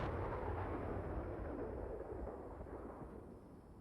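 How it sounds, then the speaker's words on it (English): A Javelin missile shot in Steel Beasts Pro erupts as one broad, roaring blast that rumbles and slowly fades over a few seconds, heard alone with no voices. "Beautiful javelin shot."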